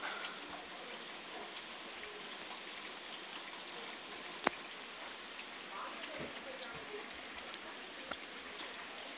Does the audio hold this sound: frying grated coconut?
no